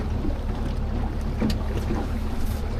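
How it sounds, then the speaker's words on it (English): A small water taxi boat runs steadily across water near Mangawhai Heads, its motor and splashing mixed with gusts of wind on the microphone. "So we're on our way to find a little boat."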